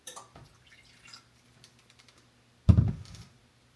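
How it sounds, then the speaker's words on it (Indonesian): A little water poured into thick chili paste sauce while cooking: a few faint taps and clicks, then one short, louder splash and trickle near the end, with no talking. "Ini saya tambahin air sedikit."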